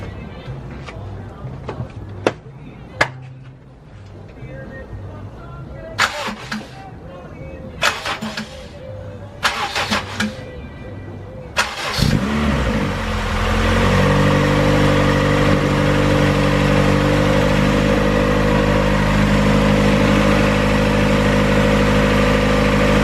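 An all-wheel-drive Honda CRX with a freshly swapped engine cranks in short bursts, then fires and settles into a steady, loud idle, with brief voices heard over the start-up attempts.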